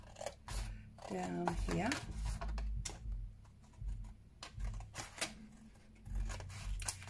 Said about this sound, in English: I'm just going to trim that down there, trim this one